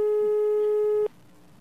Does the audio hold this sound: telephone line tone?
yes